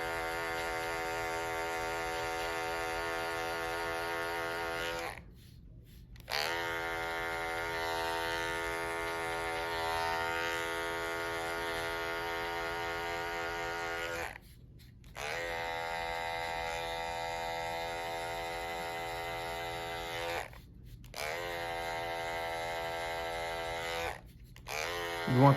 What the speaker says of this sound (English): You want the clipper to do most of the work.